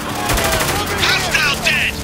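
Heavy gunfire in the video game Spec Ops: The Line, a loud, close burst of rapid shots mixed with shouting voices and chirping ricochet-like tones.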